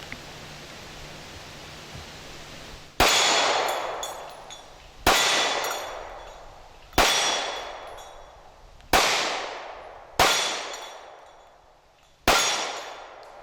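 Six loud pistol shots from a Smith & Wesson M&P Shield firing .45 ACP aluminum-cased rounds outdoors, spaced about two seconds apart, each sharp crack trailing into a long fading echo, no talk.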